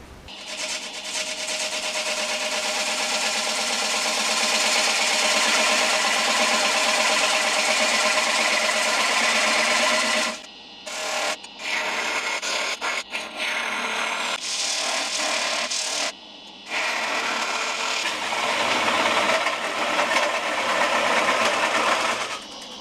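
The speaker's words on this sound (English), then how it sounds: "So I'm going to do a lot of sanding on this." A continuous hiss of sandpaper against a spinning soft-wood platter on a lathe, broken by a few brief pauses and restarts.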